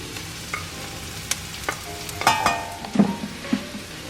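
Garlic frying in a pan on a stove while being stirred, with a soft sizzle and occasional scraping clinks of a utensil against the pan, no talking.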